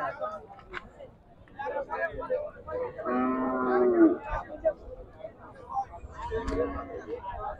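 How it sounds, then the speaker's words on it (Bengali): Friesian cattle moo loudly at a busy cattle market, with a long, strong lowing call in the middle and shorter calls around it, over general crowd noise and people talking. "দেখেন সবই ফ্রিজিয়ান জাতের গরু।"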